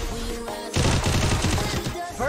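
Gunfire from a mobile shooter video game landing a headshot: a loud rapid burst of shots starts partway in and rattles on steadily for over a second before fading.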